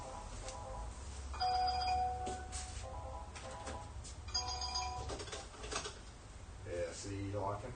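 A telephone ringing in repeated electronic bursts over a steady low background, with people talking between and under the rings.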